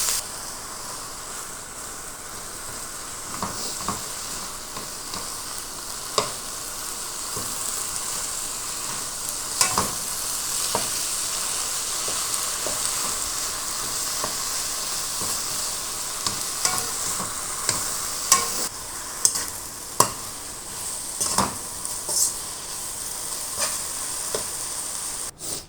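Washed red amaranth leaves fry in a pan, a constant hiss of sizzling broken by frequent sharp scrapes and clinks as they are stirred, close and fairly loud with no talking.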